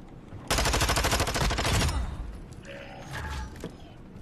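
Rapid automatic gunfire in an online shooter game, a loud sustained burst of fast repeated shots lasting over a second, followed by quieter clanks and game effects.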